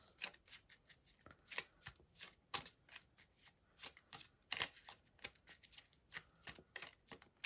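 A tarot deck is shuffled by hand, with repeated crisp riffles and card flicks close up, coming in quick bursts with short pauses between them and no talking.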